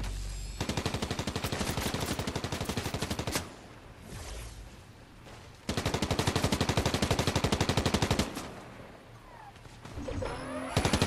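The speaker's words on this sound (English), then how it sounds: "I'm getting shot at." Rapid automatic gunfire in a Fortnite match, long rattling bursts of shots close by, pausing briefly and then resuming, loud and dense over quieter game ambience.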